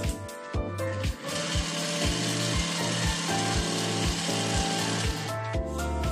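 A Thermomix fitted with the Découpe Minute grating thick at speed 4, a loud steady motorized whir with a rhythmic pulsing thump as the food is shredded, running continuously close by.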